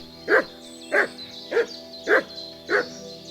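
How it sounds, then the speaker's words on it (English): A dog in the medieval game Kingdom Come Deliverance 2 barks six times at an even pace, each bark spaced about half a second apart, over a steady game soundtrack bed with no talk. "She's just gonna bark."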